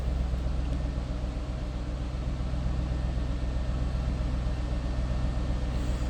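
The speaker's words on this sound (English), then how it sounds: "Nice deep throaty exhaust note." A 2009 Ford Mustang Bullitt engine idles steadily nearby, a deep, throaty rumble from the exhaust holding constant without revving, no voices.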